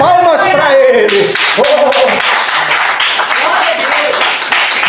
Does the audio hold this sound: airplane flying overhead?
no